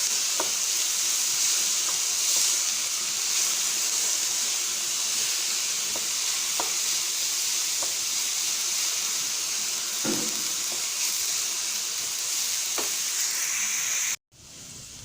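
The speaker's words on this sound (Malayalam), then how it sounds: "സവാള പെട്ടെന്ന് വഴന്ന് വരുന്നുണ്ട്" Sliced onions sautéing in a pan for Kerala-style chicken peralan, giving a steady, close sizzle throughout, with a few soft stirring clicks and scrapes before a brief cut near the end.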